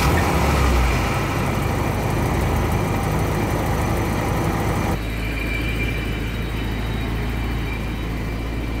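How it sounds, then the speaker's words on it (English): A BMW E30 engine idling steadily up close after new belts are fitted, a loud low rumble that shifts to a smoother, quieter hum partway through, with no belt squeal. "Turn the car on."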